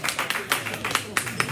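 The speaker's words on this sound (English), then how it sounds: "We can take that applause for you." Sparse scattered clapping from a small audience at a mayoral forum, a few sharp claps at irregular intervals, fairly faint.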